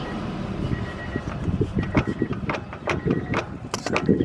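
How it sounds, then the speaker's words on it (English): A car gearbox whirring and rattling, heard from underneath the vehicle, a steady mechanical drone with irregular clicks and knocks, close and moderately loud. "So that noise is coming from the gearbox"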